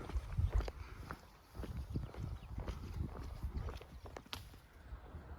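Hooves of ponies and horses clip-clop irregularly on a hard road surface, fairly close, over a low outdoor rumble.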